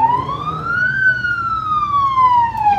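A police car siren wails near and loud in a steady rising-and-falling sweep at night, with faint street noise underneath.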